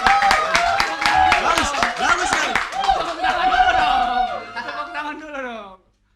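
Audience clapping and chuckling together at a campus event, scattered claps mixed with laughter and voices over about six seconds before stopping abruptly.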